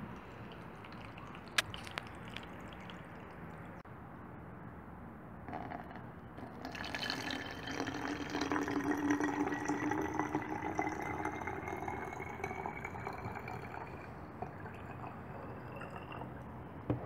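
Liquid humus fertilizer for orchids poured through a small strainer: a soft trickling, splashing flow that builds up and keeps running for several seconds, quiet and close.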